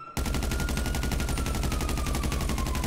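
Rapid automatic gunfire in GTA 5 Online, a loud, sustained burst of evenly spaced shots starting abruptly after a brief silence and continuing without a break.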